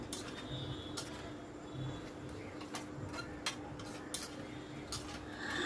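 Chicken with fried onions is stirred nonstop in a pan over a high gas flame. A steady hiss runs under light scraping and regular sharp taps of the utensil against the pan. Nobody speaks.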